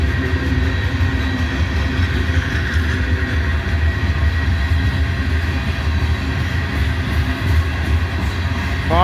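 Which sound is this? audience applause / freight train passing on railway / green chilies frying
freight train passing on railway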